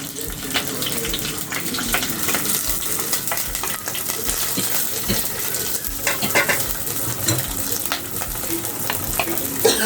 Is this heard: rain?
no